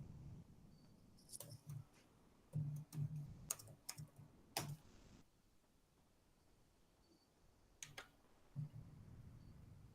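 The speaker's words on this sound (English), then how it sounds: "I'm typing on the wrong thing here." Computer keyboard typing in short irregular bursts of light clicks and taps, with quiet gaps between clusters, close and fairly soft against a low background hum, no talking.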